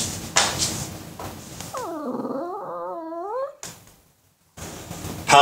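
A puppy whimpers and whines in a short run of rising, wavering cries in the middle, close and fairly loud, with brief noisy rustling before and after.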